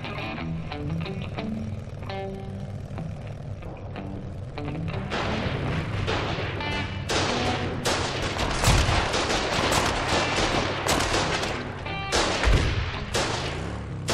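Battlefield gunfire in the war game Foxhole, scattered shots early building into dense volleys of rifle and artillery-like blasts with deep thumps, loud and continuous with no talking.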